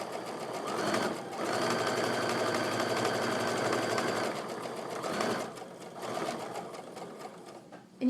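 A sewing machine chain pieces quilt triangles in a steady, close mechanical whir that runs for several seconds, dips briefly, then resumes in shorter runs, with no talk.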